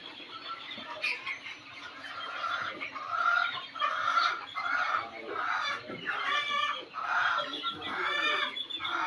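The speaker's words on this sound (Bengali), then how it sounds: "আমাদের বড় লেয়ার মুরগিও আছে আমাদের এই খামারে।" Several layer hens cluck continuously in a busy chorus on a poultry farm, with occasional louder squawks rising above the steady clucking; no talking, just the flock close by.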